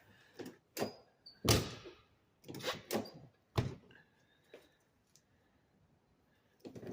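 A sagging car door that no longer sits flush is slammed shut repeatedly, giving a series of sharp, loud thuds and rattles with brief quiet gaps between them and no talking.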